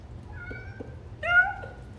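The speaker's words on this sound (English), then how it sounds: "you guys gotta see my cat" A cat meows twice nearby, a soft drawn-out mew followed by a louder, brighter one, against a quiet background.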